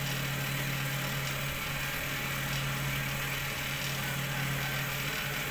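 Jumbo cotton candy machine with a cast aluminium furnace runs loudly and continuously, a steady rough motor drone with a strong low hum and broad whirring noise throughout.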